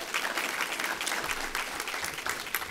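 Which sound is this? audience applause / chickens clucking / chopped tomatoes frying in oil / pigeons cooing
audience applause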